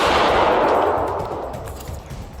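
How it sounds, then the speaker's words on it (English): Rapid burst of gunfire aimed at police officers, recorded on an officer's body camera, a loud dense volley that fades over about two seconds with scattered cracks at the end. "Shots fired"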